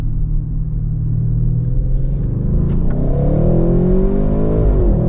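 A 2022 Audi RS6 engine revs hard as the car pulls through second gear, a loud, steady low growl that rises in pitch and builds steadily with no talk over it.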